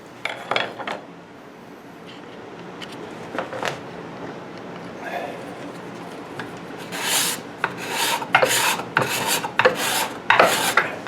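A cabinet scraper shaves wood in a run of sharp rasping strokes, sparse and uneven at first, then quicker and louder in a rapid series near the end.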